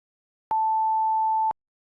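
A pure 880 Hz sine wave tone, pitched an octave above 440 Hz, holds steady for one second in silence, switching on and off abruptly.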